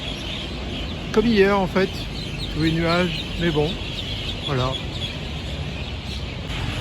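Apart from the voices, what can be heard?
many birds cackling in trees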